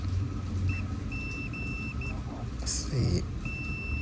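A multimeter in continuity mode beeping on a shorted PS4 motherboard, a thin high electronic tone sounding in several short and longer bursts, with someone talking and some handling noise around it.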